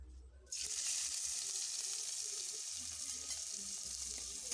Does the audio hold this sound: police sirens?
no